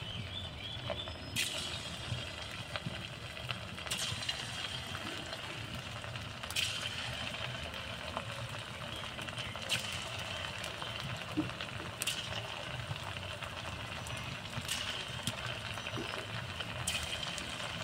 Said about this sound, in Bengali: তেলটা তো গরম হয়ে গেছে, এবার আমি একে একে কুরকুরিগুলো তেলের উপর ছেড়ে দেব।